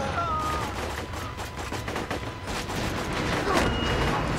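Incendiary fire weapon firing continuously in Borderlands 2, a dense sustained burst of gunfire that runs the whole stretch at steady loudness, swelling slightly near the end.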